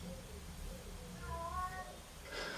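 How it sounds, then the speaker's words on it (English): A cat meows in a few short, rising calls at close to moderate distance in a quiet room where a mountain bike is being worked on, with faint background noise and no talking. "That's a cat talking to me."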